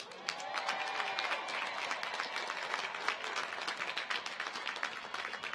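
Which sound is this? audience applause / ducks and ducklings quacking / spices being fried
audience applause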